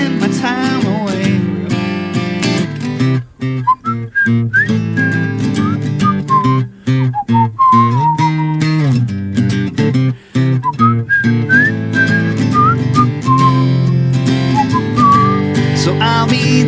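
Melodic human whistling carries the tune of an Irish singer-songwriter's song, sustained and prominent over a steady musical backing throughout.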